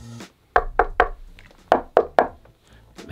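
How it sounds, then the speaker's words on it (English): Two sets of three quick knuckle knocks on a solid, heavy Arendal Sound 1961 Tower speaker cabinet, close and dull-sounding, with a short pause between the groups. "let me tap on them with my knuckles so you can just hear how these cabinets sound"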